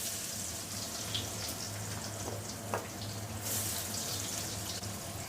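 Onions frying in mustard oil with cumin and bay leaf, a soft continuous sizzle and hiss with occasional faint pops, fairly quiet and steady, no talking.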